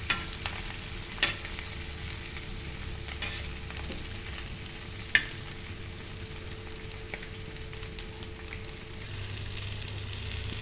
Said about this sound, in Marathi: एक साईडून फ्राय करून घेतल्या तर दुसऱ्या साईडून पण फ्राय करून घेतो